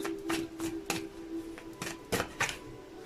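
Tarot cards being shuffled by hand, a run of crisp riffling and slapping bursts close to the microphone with a faint steady tone underneath and no talking.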